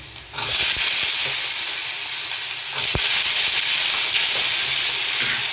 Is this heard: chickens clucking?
no